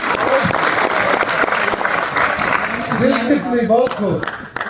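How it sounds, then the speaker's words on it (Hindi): An audience gathered before a stage bursts into loud, sustained applause, with a crowd's clapping filling the space while a voice speaks over it toward the end. "एक बार जोरदार तालियां मिलकर आप सब बजाइए।"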